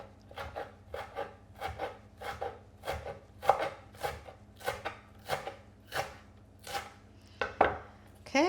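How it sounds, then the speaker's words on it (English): A knife chops fresh dill on a wooden cutting board for kelp pickles, about fourteen steady, evenly spaced strokes close by, each a crisp thud with a soft scrape, and no talk. "Just gonna chop this up a little bit."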